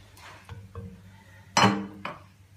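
Noodles stirred in a pan for pancit bihon, giving a few soft metallic clinks and scrapes of utensil against cookware, with one louder clatter near the end.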